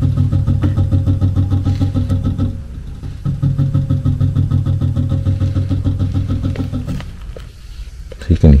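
A failing ECM variable-speed blower motor module in a furnace fan runs with a steady rough hum and rapid rhythmic pulsing, briefly faltering near the middle and again toward the end.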